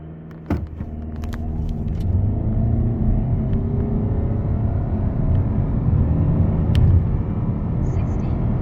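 A 2024 Toyota Camry hybrid accelerating hard from a standstill, its engine drone rising steadily and staying loud and close for several seconds after a brief thump at the start.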